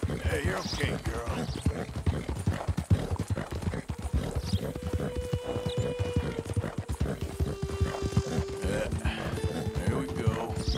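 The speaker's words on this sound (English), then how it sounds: "the horse is racing along at some speed" Rapid, rhythmic clip-clop of hooves as a horse gallops steadily in Red Dead Redemption 2, with a brief whinny and a sustained tonal hum partway through.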